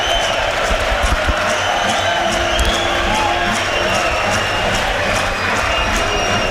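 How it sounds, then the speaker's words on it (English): Football crowd at a York City versus Carlisle United match, a steady dense roar of many voices filling the stadium with scattered shouts and whistles, continuous throughout without commentary over it. "Listen to the crowd."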